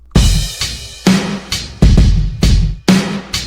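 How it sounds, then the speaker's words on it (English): Big stadium-style drum loop programmed in FL Studio for a pop ballad: booming kicks, roomy snare hits, low-toned hi-hat and a washy crash, repeating in a steady, loud, reverberant groove with no voices. "The whole drum loop sounds like this."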